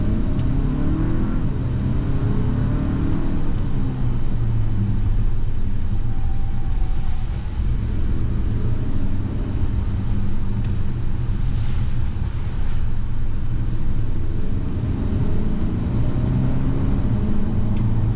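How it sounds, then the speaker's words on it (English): A 2024 Hyundai Santa Cruz Night AWD with a wet dual-clutch transmission pulls away and accelerates in manual mode, its engine a steady loud drone with road and wind roar that never lets up. "Down the road we go, and this wet dual clutch is manual shifting, is shifting beautifully."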